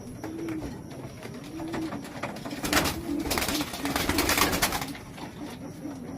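Pigeons cooing close by in repeated soft rounded phrases, several calls in a row over a faint background of rustling and handling noise.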